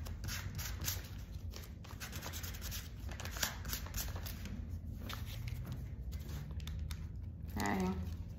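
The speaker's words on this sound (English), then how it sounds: "So just take the sandpaper, sand over it just a bit." Sandpaper rubs over small craft pieces still held on tape, a soft, steady scratchy rasp of repeated strokes, fairly quiet and close.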